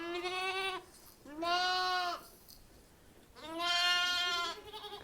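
Lambs on a village farm bleat in two long wavering calls, close and clear, with a quiet pause between them against soft background noise.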